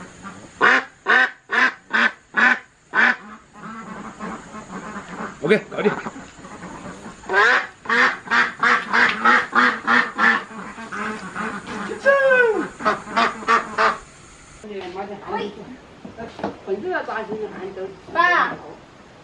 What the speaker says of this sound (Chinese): 这只鸭子起码有5斤，很大，很重啊